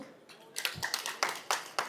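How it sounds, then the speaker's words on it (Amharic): Audience clapping for a gift at a business event, a short burst of scattered hand claps that builds quickly and continues at a moderate distance. "ለስጦታው የእናንተም ጭብጨባ ይለያቸው"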